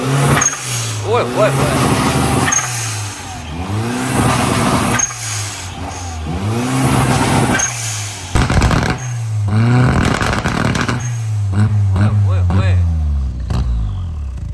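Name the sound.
turbocharged Toyota Vitz engine revving with backfire pops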